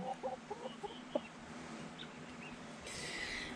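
Chickens in a chicken coop give a few soft, scattered clucks early on over a quiet background hiss, fairly faint, followed by a brighter rustling noise near the end.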